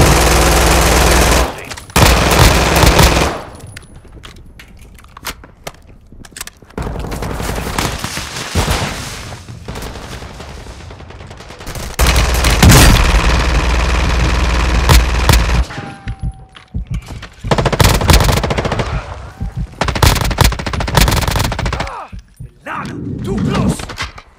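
Gunfire in the shooter game Call of Duty: Modern Warfare II, loud bursts of automatic rifle and machine-gun fire in rapid volleys separated by brief lulls, with radio voices and shouting heard among the shots.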